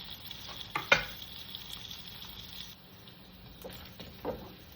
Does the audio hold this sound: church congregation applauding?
no